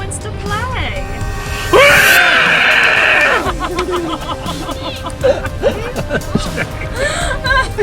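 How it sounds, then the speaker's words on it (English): A shrill, sustained scream of about a second rings out inside a haunted clown car wash, loud over excited chatter, gasps and nervous laughter from several people. "That was a great scream."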